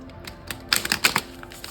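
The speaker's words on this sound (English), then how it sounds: "let's shuffle the deck again and see what our next card is" A tarot card deck is shuffled up close, giving a brisk burst of rapid papery clicks and flutters that peaks briefly before trailing off, with no talking.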